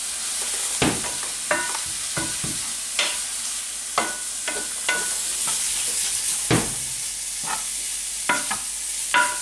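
Red lentil curry with curry powder being stirred in a pan, a soft steady sizzle broken by repeated sharp scraping and clinking spoon strokes at an uneven rhythm, fairly close, with no voices.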